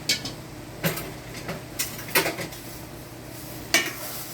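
A utensil scrapes and knocks against a pan while mixing in fried mackerel for denengdeng, in irregular bursts, a few louder clanks standing out over a low steady background hum.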